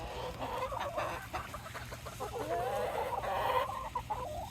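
Chickens cluck and chatter softly nearby in snowy winter weather, a run of overlapping murmurs and short cackles from several hens, fairly quiet, with no voices.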